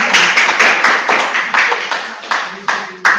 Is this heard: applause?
yes